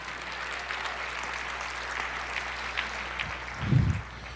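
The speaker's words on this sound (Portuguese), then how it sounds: "Aplauda o Senhor" A church congregation claps steadily throughout, a dense, even patter of many hands at moderate distance, with a brief low thump near the end.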